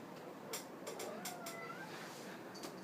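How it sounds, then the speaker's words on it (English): A pet cat meows several times indoors, short faint calls over a quiet background with no talking. "Oh my gosh, my kitty's here. She sees that I'm sad."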